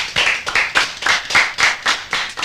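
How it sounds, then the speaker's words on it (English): An audience at a school quiz competition claps for the winning college in a slow, even rhythm of about eight distinct, fairly close claps. "I think they deserve a clap from us, right?"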